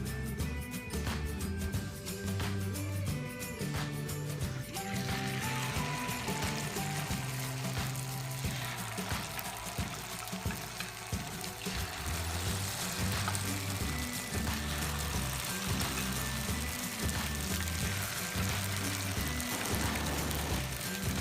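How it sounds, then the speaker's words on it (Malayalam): Jackfruit fritters fry in hot coconut oil, giving a loud, dense, continuous sizzle and crackle that runs unbroken and close throughout. "ഇനി നമുക്ക് നമ്മുടെ ചക്ക പൊരിച്ചെടുക്കാം."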